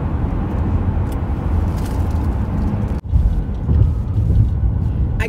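A Ford Explorer cruising down the road, a steady, smooth low rumble of engine and tire noise from inside the cabin, continuous with a brief dip in the middle and no one speaking.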